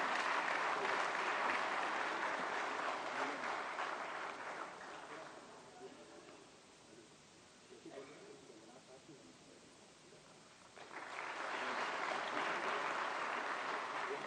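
An audience at a ceremony releasing Pandit Madan Mohan Malaviya's collected works applauds loudly as a minister is honoured, dipping to a quieter patch midway before swelling back to full clapping.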